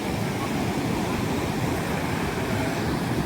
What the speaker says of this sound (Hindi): ये देखिए उड़ीसा का चंद्रभागा बीच है। ये कितने तेज शोर कर रहा है